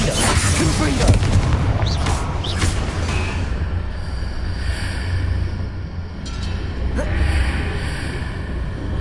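A Confringo spell blast in Hogwarts Legacy bursts out loudly amid thick, roaring battle effects, followed by a sustained rumble that eases slightly before further crackling hits.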